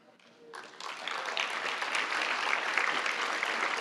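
An audience at a youth health awards ceremony breaks into applause, building quickly from a few claps into sustained, fairly distant clapping from a crowd.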